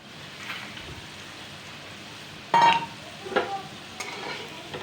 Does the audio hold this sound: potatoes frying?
yes